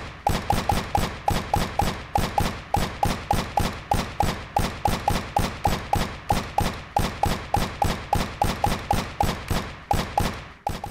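Rapid, evenly spaced bursts of gunfire from the video game CS:GO fire continuously for about eleven seconds, loud and close, with no voices.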